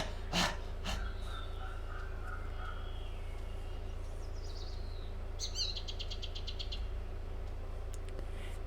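Birds call in a forest area of The Longest Journey video game, giving short chirps and a quick burst of trilled tweets over a steady low ambient hum, with no talking.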